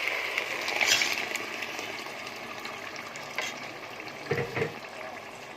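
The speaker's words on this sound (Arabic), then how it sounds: "على بال ما السجق يتشوح مع البصل والثوم" Steady frying sizzle of sausage with onion and garlic, with occasional stirring clatters and scrapes, moderately loud and close, no talking.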